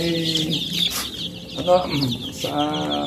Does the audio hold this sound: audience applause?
no